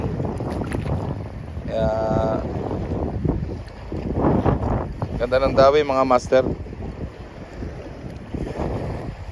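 Strong wind buffets the microphone at a tilapia fishing spot, a loud, continuous low rumble with gusty surges, while someone talks over it throughout.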